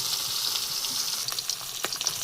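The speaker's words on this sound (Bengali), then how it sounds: "মাছ ভাজা হতে থাকুক," Fish frying in a pan for a home-style thin curry, a steady close sizzle and crackle with scattered sharper pops, heard alone without talk.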